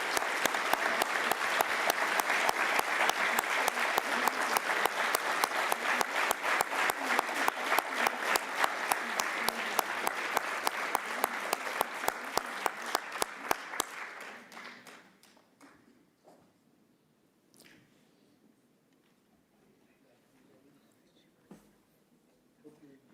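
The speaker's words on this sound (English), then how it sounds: "Let's give them once again a big round of applause." Crowd applause at a meditation event at the United Nations, loud steady clapping that thins out and fades after about fourteen seconds, leaving quiet room noise and a few scattered claps.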